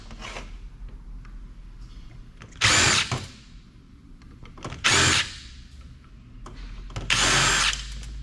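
A power drill backs screws out of MOSFETs on an old IBM server circuit board, three short whirring bursts about two seconds apart, close and loud over faint background hum.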